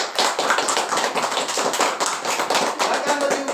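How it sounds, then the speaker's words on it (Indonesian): A classroom of students applauds a presenting group, dense close clapping from many hands that holds steady throughout, with some voices mixed in. "Tepuk tangan dulu kelompok D."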